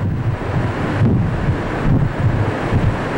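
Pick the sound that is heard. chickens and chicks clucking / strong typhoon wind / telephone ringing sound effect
strong typhoon wind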